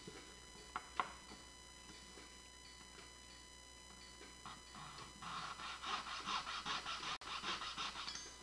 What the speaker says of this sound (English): I'm going to take my saw and I'm going to make a kerf that goes all the way around the edge here